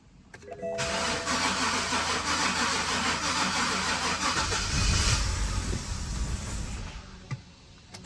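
A BMW 5 Series engine catches after a brief crank, runs roughly at a fast idle with a low rumbling surge, then dies out near the end; no voices.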